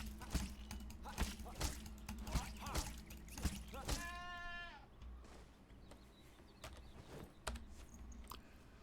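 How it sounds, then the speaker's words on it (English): A sheep bleats once in the game Enshrouded, a short wavering cry partway through, over repeated thuds and crunching impacts while a voice talks. "It's a sheep."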